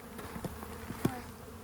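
Honeybees crawl over a beehive frame holding honey, giving a faint, soft buzzing with a few brief louder bursts as single bees pass close.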